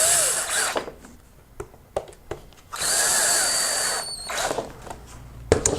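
A power drill driver with a T20 bit drives screws into a Porter Cable router during a power cord replacement, giving loud whirring bursts of varying length with clicks and pauses between them.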